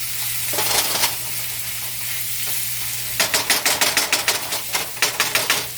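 Scallion and cabbage stir-fry in a hot pan, giving a continuous sizzle under a quick run of rhythmic scraping strokes from a utensil, close and loud, with a brief pause before the strokes resume.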